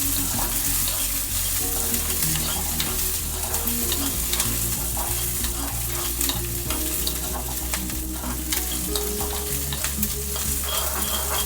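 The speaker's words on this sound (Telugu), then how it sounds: "ఇవన్నీ బాగా ఫ్రై చేస్తాం." Green chilies and spices for a chukka kura (sorrel leaf) chutney fry in a home kitchen pan, a steady sizzle with scraping stirs, and running tap water audible partway through, with no one speaking.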